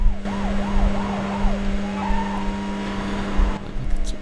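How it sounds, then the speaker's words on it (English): Police car siren wailing in rising-and-falling sweeps during a video game car chase, with engine roar and tires skidding beneath, fairly loud and continuous. "Wow, that police car is booking it."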